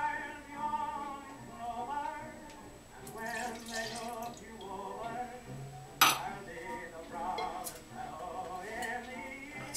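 A tight cork is pulled from a whiskey bottle, giving one sharp, close pop about midway through, set against steady background music or voices.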